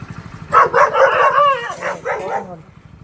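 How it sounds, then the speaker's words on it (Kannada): Dogs near a market street in Karkala, several close, loud barks and yelps run together in a short burst over a low background hum. "ನಾಯಿಗಳು"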